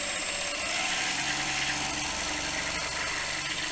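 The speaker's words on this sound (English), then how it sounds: "let's see what happens if I turn on the motor" A small electric motor spins steadily on a Hall sensor speedometer test rig built around an ESP32, giving a continuous close hum with a faint vibrating buzz.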